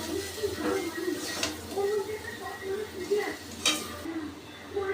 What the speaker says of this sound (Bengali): এবার সব মশলাগুলোকে আমি খুব ভালো করে কষে নেব